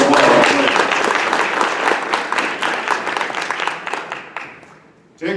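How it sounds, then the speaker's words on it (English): Audience at a 2018 State Fair Classic football press conference breaks into loud, dense applause that holds steady, then thins out and fades over several seconds before a voice returns at the end. "let's give him a round of applause."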